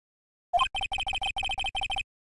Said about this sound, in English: The phone that rang earlier wasn't mine.